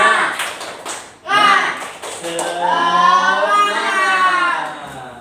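A fourth-grade Islamic studies class claps rhythmically in unison while the children chant loudly together; the sharp claps are clearest at the start and then sit under sustained, cheering voices.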